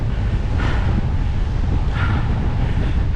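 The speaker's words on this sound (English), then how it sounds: "It's very windy." Strong winter wind on a bike ride buffets the microphone, a loud continuous low rumble with gusty surges, close and unbroken, with no voices.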